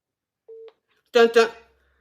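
A short single tone of a telephone call being dialed, close and clear, followed by a brief burst of a voice speaking.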